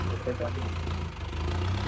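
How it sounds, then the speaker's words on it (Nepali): A tractor engine idles with a steady, low chugging rumble that holds constant throughout. "यो ट्र्याक्टर चाहिँ आज जाँदैछ अर्मन पाखरकतिर।"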